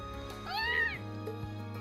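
A cat meows in the video game Legend of Heroes: Trails of Cold Steel. One clear, rising-and-falling meow stands out plainly over soft background game music.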